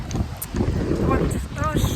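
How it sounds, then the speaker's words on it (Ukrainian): Strong wind rumbles and buffets the microphone in a low, continuous roar, with a voice speaking underneath. "тут дуже сильний вітер"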